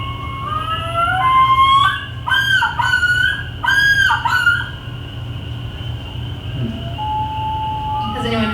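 A male loon's recorded yodel rings out as a series of loud, rising and falling wailing phrases that break into repeated notes, over a steady low hum, fading into quieter calls.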